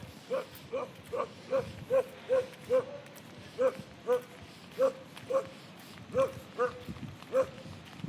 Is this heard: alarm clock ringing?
no